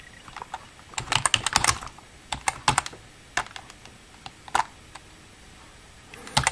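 Keys clatter on a computer keyboard as terminal commands are entered on a Raspberry Pi 4, in close, irregular bursts of clicks with short pauses between them.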